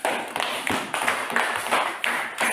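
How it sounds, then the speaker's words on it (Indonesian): Classroom clapping from students in an Indonesian lesson, a steady rhythmic patterned clap in unison with regular accents, fairly loud and close, with no speech over it. "Ya, tepuk tangan."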